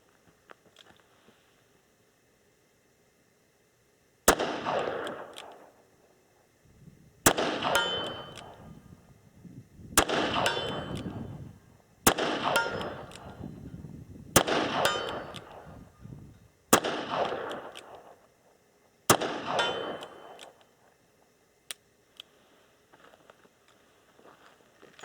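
Seven loud, sharp shots from a Smith & Wesson 686 Plus .357 Magnum revolver loaded with .38 ammunition, fired at steel targets out to 101 yards outdoors, spaced a few seconds apart, each ringing out into a long decaying echo.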